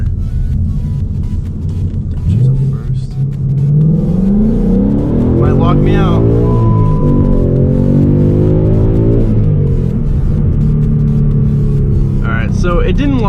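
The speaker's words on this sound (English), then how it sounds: "The rev match downshift is spectacular." A Ford Mustang GT with an MT82 manual transmission blips its engine in a loud rev-matched downshift heard from inside the cabin, the revs rising and falling in sweeps while someone talks over it.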